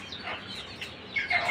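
Chickens, including silkie and broiler chicks, give brief close chirps and clucks, with a louder burst of high calls near the end.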